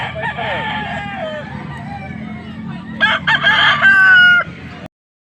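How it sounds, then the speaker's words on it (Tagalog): Several roosters crow over steady clucking from a flock of chickens on a farm, one crow rising loud and near toward the end before the sound cuts off. "Ang dami mong manok boss ah."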